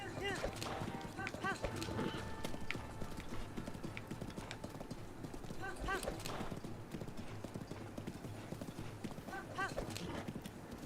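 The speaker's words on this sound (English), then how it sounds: "Let's go, horsey." A horse gallops in the video game Zelda Breath of the Wild, rhythmic clip-clop hoofbeats running steadily with occasional snorts, while a person talks over the game.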